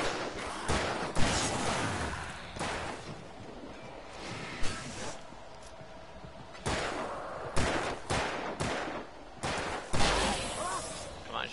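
Gunshots ring out in Alan Wake Remastered, sharp separate bursts and short volleys spaced irregularly, some near and loud, with a voice speaking between them.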